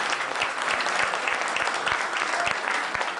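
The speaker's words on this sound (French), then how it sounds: "je voudrais qu'on commence la soirée par un grand applaudissement pour sa" An audience bursts into dense, sustained applause at an evening event, many hands clapping loudly together for a few seconds without pause.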